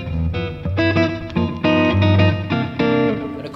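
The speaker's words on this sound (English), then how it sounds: "fat jazzy sounds in the neck," Fender Modern Player Marauder electric guitar played through the neck pickup for a warm, jazzy clean tone, a short run of plucked notes and chords ringing out clearly with no voices.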